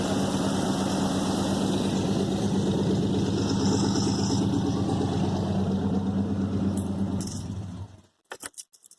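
A 1994 GMC truck engine with a V-belt drive idles steadily and close up for several seconds, then shuts off, leaving a few sharp clicks and ticks in the quiet that follows.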